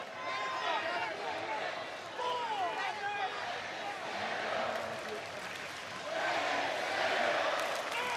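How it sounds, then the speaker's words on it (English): A wrestling arena crowd chants for Rey Mysterio in a loud, rhythmic roar over a commentator's steady talk. "Here the crowd chanting for support."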